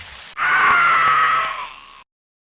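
A muffled scream echoing through a jungle, made as a horror sound effect: one loud, sustained, strained cry lasting well over a second, then fading out abruptly into silence.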